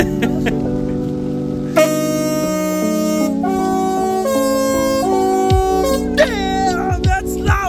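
Loud, sustained blasts from compressor-fed air horns sound in overlapping tones, shifting pitch several times and ending with short sliding honks.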